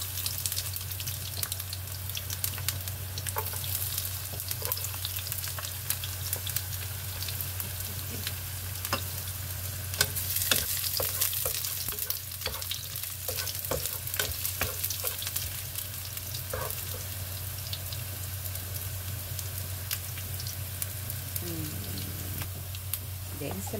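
Shrimp and garlic sauté in a hot pan with a steady, close sizzle and frequent clicks and scrapes of stirring, continuing under a low hum for the whole stretch.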